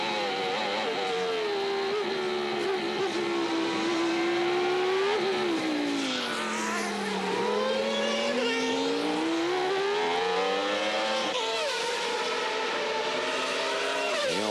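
A 1994 Lotus Formula 1 car with a Mugen-Honda engine racing at Magny-Cours, its loud high-revving engine whining continuously and rising and falling through gear changes over about fifteen seconds, close and dominant.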